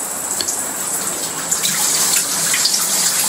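Shower water runs steadily with a bright, hissing spray and a few small splashes, close and continuous, with no talking.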